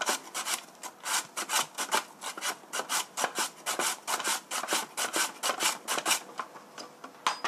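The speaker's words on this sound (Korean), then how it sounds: "웡은 채썰기가 힘드니까 그냥 강판으로 갈아 보겠습니다" Burdock root is grated on a grater in fast, rhythmic rasping strokes, close and loud, with repeated scraping bursts and no talk.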